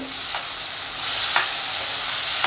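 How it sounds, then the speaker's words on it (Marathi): Chopped onion sautés in a pan until soft, a close, continuous hiss and sizzle with soft stirring scrapes roughly once a second. "आता ह्या मग कांदा थोडा नरम होईपर्यंत व्यवस्थित असा परतून घेते"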